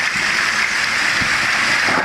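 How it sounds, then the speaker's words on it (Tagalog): Steady hiss of rain falling on a river gold-mining site, constant and fairly loud, with no voices. "Umuulan na."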